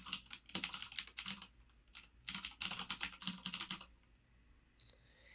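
Rapid typing on a computer keyboard, heard close as two quick bursts of clicking keystrokes separated by a brief pause, then a few scattered taps and quiet at the end.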